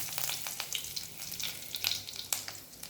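Cinnamon, cloves, peppercorns and curry leaves frying in hot oil for a dal tempering, giving a steady close sizzle with crackling pops throughout.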